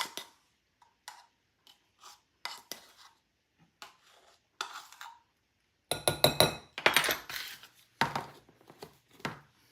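Dry baking ingredients, including cinnamon and baking powder, mixed in a bowl for apple fritters, with a series of clinks and scrapes of a utensil against the bowl, sparse at first and then quicker and louder.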